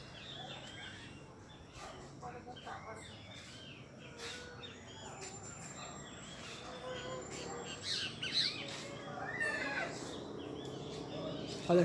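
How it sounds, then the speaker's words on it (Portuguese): Small birds chirp and sing in a natural outdoor setting, many quick high tweets overlapping at moderate distance, with a voice talking faintly at times. "ouve só o barulho dos passarinhos"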